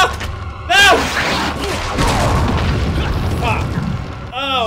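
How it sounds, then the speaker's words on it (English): A grenade explodes in Resident Evil 4, a loud booming blast with rumbling debris that fills most of the clip, followed by a sharp later burst, while a person shouts excitedly over it. "Let's try this grenade."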